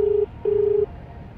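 A phone placing an outgoing call gives two loud, clean tonal beeps, a short one then a longer one, close and alone with no talking.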